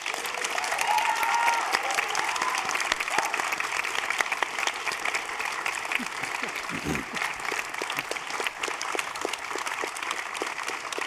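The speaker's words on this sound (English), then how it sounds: "Please give them a round of applause." Sustained audience applause at a panel debate on fake news, dense steady clapping filling the room with some crowd murmur mixed in, holding even throughout.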